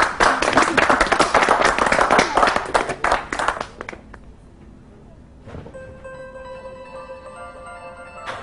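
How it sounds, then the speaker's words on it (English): Colleagues on a hedge fund trading floor give Simon a round of applause, a loud, close burst of many hands clapping for about four seconds that then fades, followed by quieter room noise and a ringing electronic tone. "we should all give Simon a round of applause off the trading floor"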